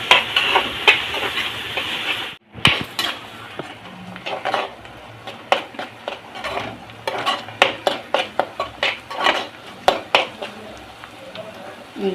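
Garlic fries in a pan for a spicy garlic powder, a steady sizzle at first, then repeated scraping and clinking of a spoon stirring against metal in uneven strokes.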